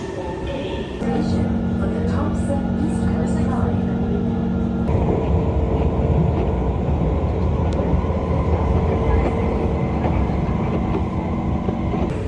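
A train arrives at a Singapore station, its rumbling roll and rising hum filling the scene, with a faint tonal whine and steady rail noise throughout; a brief change in pitch comes midway as it slows.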